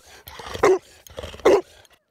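A black Labrador search and rescue dog barks twice, two sharp, loud barks about a second apart with quieter panting or movement between them.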